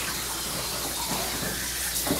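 Steady running water rinsing a dog during grooming, a constant close spray and splash with no break.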